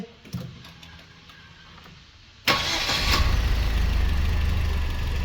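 A Gazelle Next van fitted with a 2-litre Genesis engine and automatic gearbox cranks briefly in a workshop, then fires and settles into a loud, steady, rumbling idle close by.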